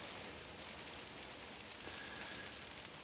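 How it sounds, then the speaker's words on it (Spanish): Heavy rain falls steadily, a dense, even hiss of drops on surfaces with no voices, continuous and fairly quiet throughout. "Llueve mucho."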